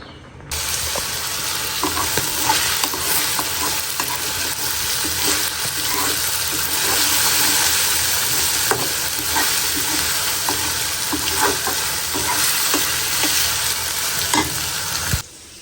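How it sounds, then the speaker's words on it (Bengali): Vegetables and pasta sizzling together in a pan of water, a steady loud bubbling fry with occasional stirring clatter, close by and continuous with no talking. "ভাবলাম একটু সবজি দিয়া তো পাস্তা রান্না করে দিই"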